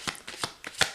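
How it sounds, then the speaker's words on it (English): Tarot cards riffled and shuffled by hand in four or five quick, crisp bursts, close and fairly quiet, with no talking. "I'll shuffle"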